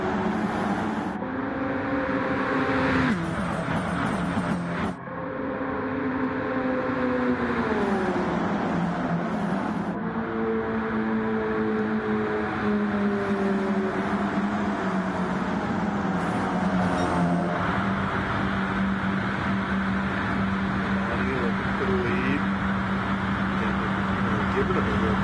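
Race cars roar steadily through the Daytona 250, engine drones rising and falling in pitch as they pass, with a commentator talking over the continuous racing noise.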